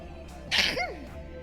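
One short sneeze rings out clearly in a quiet room, a sharp burst followed by a brief trailing voiced tail.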